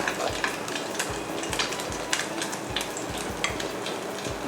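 Batter-coated Oreos frying in oil give a steady, close crackling sizzle with dense popping throughout and no voices.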